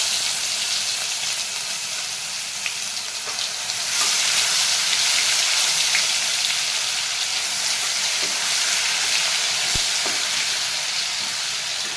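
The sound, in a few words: ginger garlic chili paste frying in oil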